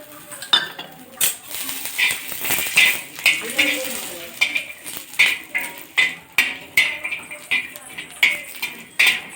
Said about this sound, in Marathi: इथं मी खोबरं भाजून घेत आहे